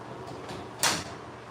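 A door in a nearly finished two-bed apartment build is shut, giving one brief, fairly soft thud against a steady low background.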